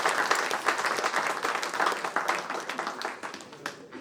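An audience at a talk on sign language and generative AI claps in a lively round of applause, bright and continuous, fading out toward the end.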